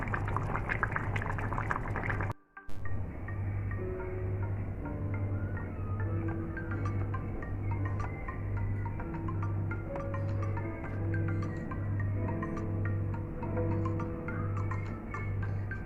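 A covered pot of Jamaican curry goat simmers steadily, giving a soft continuous bubbling hiss with light irregular pops and a faint rhythmic hum beneath.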